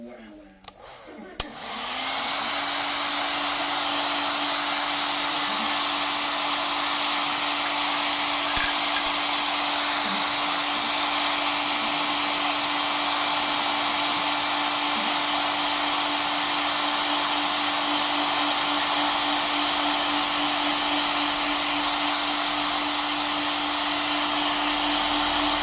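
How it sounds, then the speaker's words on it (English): A hot air gun blows steadily, heating a metal part on a Westinghouse H-598P4 to free it, switching on at the start and then holding a loud, constant whooshing hum with a faint tonal whine. "let's keep on heating it and see if we can release it."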